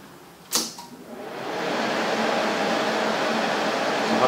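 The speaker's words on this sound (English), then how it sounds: "So we'll just turn the welder on." A Rossi TC205 AC TIG welder switching on: one sharp click, then a steady broadband fan-like hum that rises over about a second and holds at an even level, close by.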